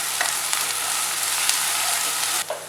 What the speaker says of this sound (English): I'm going to add ginger garlic paste and some curry leaves. And I'm going to cook this for like 2 minutes.